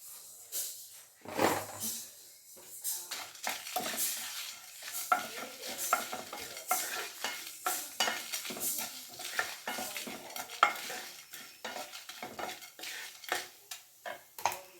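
Whole spices frying in a little oil in a pan for bisi bele bath masala, with repeated scraping and stirring strokes against the metal and a light sizzle underneath, close and moderately loud throughout.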